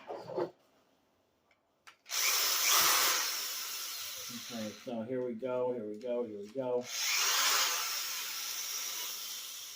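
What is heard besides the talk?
power drill drilling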